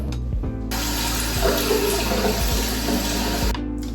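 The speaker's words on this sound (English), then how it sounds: "I'm gonna go ahead and I'm gonna rinse this off" Tap water running into a sink while face cleanser is rinsed off, a steady close splashing rush that starts abruptly and stops after about three seconds, with faint handling noise around it.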